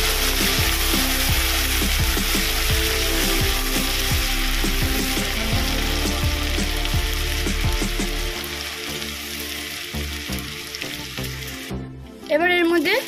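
Garlic paste fries in oil while being stirred, a steady sizzle with rhythmic scraping strokes of a spatula against the pan, easing off near the end.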